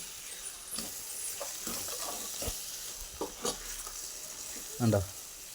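Beef roast sizzling in a pan, a soft steady fry with intermittent spoon scrapes and stirring knocks, plus a louder clatter near the end.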